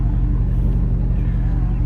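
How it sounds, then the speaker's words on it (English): A 1963 Buick LeSabre with dual exhaust gives a steady, deep engine rumble with a low throbbing exhaust note, constant and fairly loud throughout, with no clear revving. "It's got nice dual exhaust. It's got a great sound."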